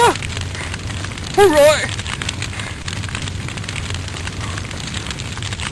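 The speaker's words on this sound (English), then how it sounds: "The firewood's burning nice" A firewood campfire burns after being lit, a steady crackling, rushing hiss close by, with brief speech from a person over it.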